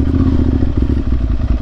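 A Ducati Monster 796 motorcycle being ridden after a World Superbike weekend at Laguna Seca, its engine giving a loud, steady low rumble with road clatter and wind buffeting, no talk.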